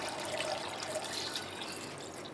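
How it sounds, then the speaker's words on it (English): Water poured into a pot over sliced ginger, a steady, close rushing and trickling that runs unbroken for the whole stretch with no voices. "put enough water on this"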